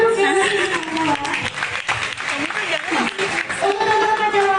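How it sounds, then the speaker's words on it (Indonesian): An audience claps under a lively mix of voices and music, the applause moderate and uneven across several seconds while talk and tonal sounds stay prominent on top. "boleh kasih tepuk tangan dong"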